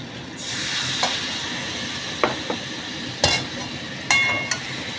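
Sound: stirring mixed vegetable korma in a pan

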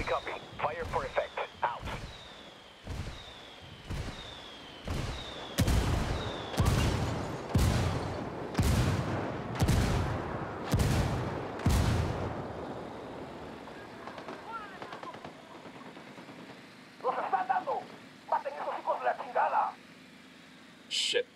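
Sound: artillery indirect fire in video game Ghost Recon Wildlands

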